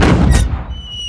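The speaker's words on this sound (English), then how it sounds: "Right, let's fire the cannon." A cartoon cannon fires in a single loud, boomy blast that quickly decays, followed by a thin whistling tail, with no talk over it.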